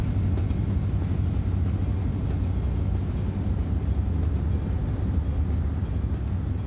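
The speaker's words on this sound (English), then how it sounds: "There's a lot of train traffic here in Daugavpils." A commuter train rolls past in Euro Truck Simulator 2 near Daugavpils, a steady, loud rumble and rattle of rail cars that fills the whole stretch without talk.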